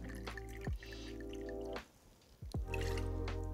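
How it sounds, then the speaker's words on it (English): Water poured into a cocktail mixing glass at a bar, a quiet trickling fill with bright ringing splashes and a brief pause midway before the pour resumes, close and faint, with no talking. "filling up our mixing glass with a little bit of water"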